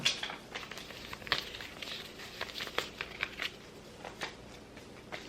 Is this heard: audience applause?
no